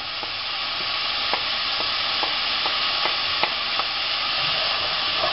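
Onions fry in a pan under a constant bright sizzle, with regular light clicks and scrapes of a spoon stirring them through the oil.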